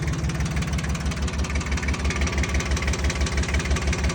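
A three-cylinder Iseki TS2810F 4WD tractor with power steering runs steadily at close range, a loud, even diesel throb with a rapid knocking pulse and no pauses.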